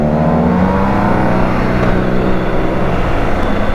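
BMW R90T motorcycle with a boxer engine, revving loudly and close, with a steady throbbing drone whose pitch shifts slightly. No one speaks.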